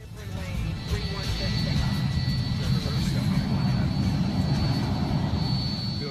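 A private business jet landing in fog at New York, its engines a steady, loud, sustained roar with a thin high whine running through it, holding constant throughout.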